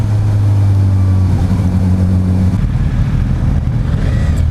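A 2016 Suzuki GSX-S1000 motorcycle engine with stock exhaust idles with a deep steady hum, then revs up and grows rougher and louder, close by.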